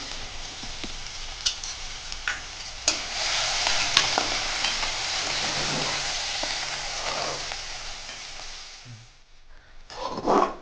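Garlic and green chili frying in hot oil, a loud continuous sizzle close by with scattered stirring clicks, easing off near the end before a brief clatter.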